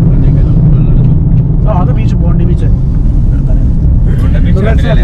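An airplane approaches overhead near Sydney Airport by the beach. Its steady, broad low rumble fills the whole stretch while a person talks over it.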